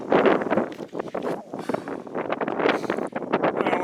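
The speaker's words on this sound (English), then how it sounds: "A little bit of wind." Light wind blows across an open hilltop on a gorgeous day, a steady broadband rush and buffeting against the microphone that swells and dips without pause.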